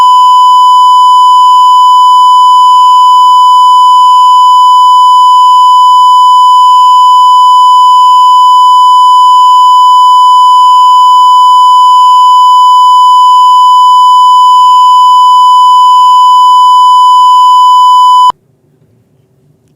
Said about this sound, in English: Did the audio beeped out when I was telling you?